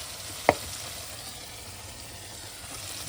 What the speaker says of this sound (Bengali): মশলাটা কিন্তু কষানো হচ্ছে, আর মশলা কষাতে কষাতেই টমেটোগুলো দিয়ে দেবো মশলার উপরে।